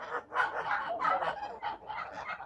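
Domestic geese near a feeding trough give a series of short, honking calls in quick succession, fairly close and moderately loud, with no talk over them.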